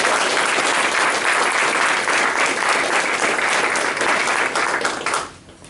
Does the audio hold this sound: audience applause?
yes